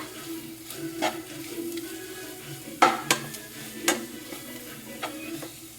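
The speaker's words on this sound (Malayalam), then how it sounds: "ആ മുളക് പൊടി നല്ലതായിട്ട് ഇതിൽ മുട്ട ഇളക്കി മൂപ്പിച്ചെടുക്കുക" Chili powder is stirred and roasted in a pan for a prawn roast, a soft continuous sizzle broken by sharp metallic scrapes and clinks of the spoon against the pan.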